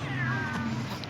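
A cat in the horror video game Ice Scream 2 gives a drawn-out, wavering meow, loud and close over a low steady game hum, lasting about a second.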